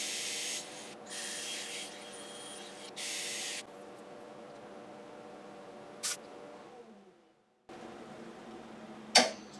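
A woodturned wooden piece is sanded on a lathe: loud, raspy bursts of abrasive rubbing over a steady motor hum, then a quieter stretch of the spinning lathe alone and a sharp knock near the end.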